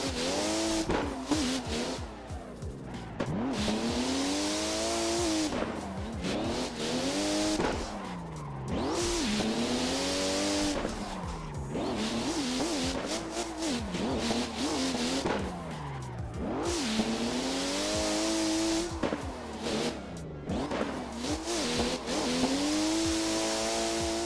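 Toyota JZX100 drifting in Assetto Corsa in VR: a loud engine revving up and down in repeated sweeping cycles with long tire squeals through each slide, close and continuous with no talking.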